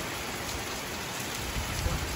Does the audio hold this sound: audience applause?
no